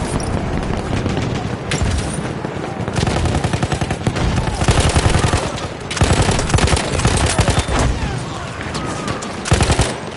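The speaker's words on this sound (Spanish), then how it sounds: "¡Ametralladora! ¡Es de ellos!" Machine gun fire in the video game Battlefield 1, heard in loud, rapid bursts of automatic shots broken by brief pauses, with dense, booming combat noise filling the gaps.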